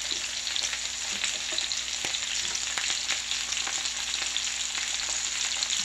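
Potatoes and onions fry in a pan with a loud, constant sizzle. Faint scrapes and taps of stirring break through it now and then, and no one speaks.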